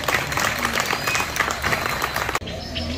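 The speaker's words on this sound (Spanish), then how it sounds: "Un aplauso para el presidente." An audience at a school claps for the president in a dense, continuous round of applause that stops abruptly near the end.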